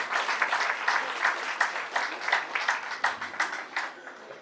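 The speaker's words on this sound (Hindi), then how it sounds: "आप सभी जोरदार तालियों के साथ इसका वेलकम करें।" An audience claps loudly for a dancer arriving at a Brahma Kumaris spiritual event, a dense, steady round of applause with distinct individual claps standing out, filling the whole stretch without any voice over it.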